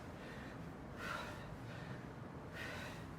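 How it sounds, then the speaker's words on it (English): Heavy breathing during air squats in a workout, two strong rhythmic exhales close to the microphone over a hissy background. "he's doing a great job of breathing"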